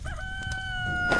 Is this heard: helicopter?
no